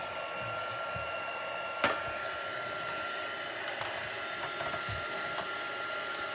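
A hair dryer runs steadily throughout, close and constant, drying a freshly painted Brusho crystal colour card, with a couple of faint clicks and taps on top.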